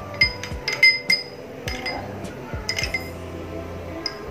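Tomato ketchup and sauce are mixed together for a semolina breakfast snack, with a spoon clinking sharply against a bowl in several close, irregular taps and scrapes.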